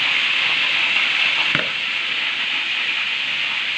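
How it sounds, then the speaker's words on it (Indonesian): A red snapper head sizzles steadily in hot frying oil, a constant bright crackle, with one brief knock partway through. "Dan ini masih kita goreng untuk agak kering, mungkin agak lama ya."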